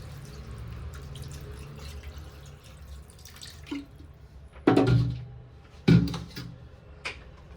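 Water is poured into a pot of chicken in a kitchen, a soft splashing trickle punctuated by a few louder clunks and knocks of the pot or utensils.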